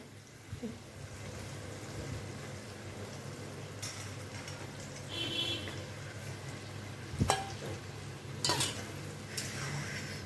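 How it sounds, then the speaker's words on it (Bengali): Spice masala for rajma being stir-fried in a pan, a soft steady sizzle with occasional scraping clinks of a spoon against the metal, close and moderately quiet, no talking. "এখন এটার সঙ্গে খুব সুন্দর করে মশলাটাকে কষাবো"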